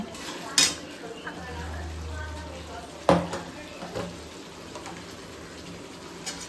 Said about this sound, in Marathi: आता हे आपण वाटण केलेलं ते सगळं मिक्स करायचं